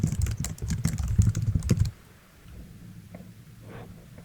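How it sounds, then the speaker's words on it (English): Rapid keystrokes clatter on a computer keyboard as a short command is entered, a dense burst of close clicks lasting about two seconds before dropping to quiet room tone with a couple of soft taps. "Type .output and then your file name."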